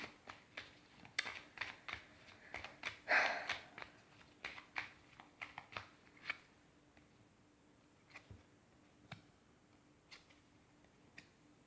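Tarot cards are drawn and shuffled by hand, giving soft, close, irregular taps and flicks of card stock, with one brief louder rustle early on, against a quiet room.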